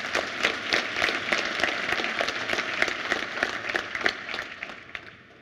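A conference keynote audience, the AngularConnect 2017 crowd, claps in a steady, dense burst of applause that fills the hall and fades out at the end.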